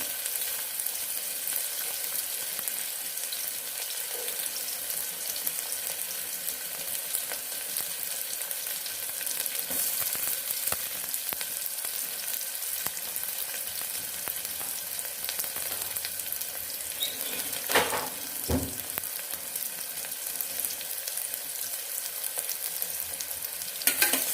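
Half a chopped onion frying in hot oil for a groundnut and potato sambar, a soft steady sizzle with occasional stirring clatters, a couple of sharper knocks near the end, no voices.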